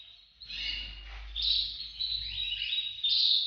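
Breeding songbirds kept as pre-breeding stock indoors call and chirp in close, high, trilling phrases, fairly loud and continuous, with a low hum underneath and no talking.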